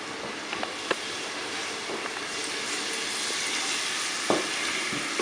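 Garlic frying in olive oil gives a steady, even sizzling hiss throughout, with a few small pops and crackles breaking through now and then.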